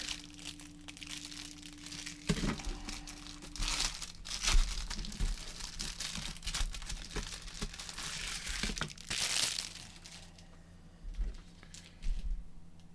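A plastic-wrapped part from a Das Werk 1/16 Sdkfz 234/2 Puma model kit being unwrapped, with close crinkling and tearing of the wrapper in bursts that come and go, alone.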